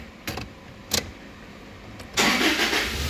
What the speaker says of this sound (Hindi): गाड़ी स्टार्ट हुई